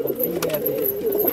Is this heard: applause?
no